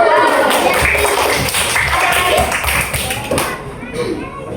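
Children in an elementary school classroom at SDN 08 Ladang Laweh clap their hands in quick rhythmic bursts, mixed with lively children's voices and an adult talking.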